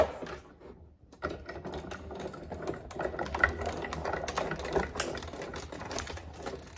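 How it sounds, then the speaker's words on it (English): A Sizzix die-cutting machine cranking a stack through to cut butterfly petal shapes, a steady close mechanical grinding and clicking rumble that starts after a brief pause and continues to the end. "I'm going to go ahead and I'm going to run it through the machine."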